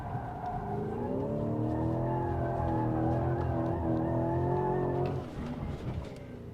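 A Lamborghini Urus SE hybrid super-SUV accelerates hard through a 360-degree turn, its engine note rising in a loud, steady drone with faint tire squeal before easing off near the end.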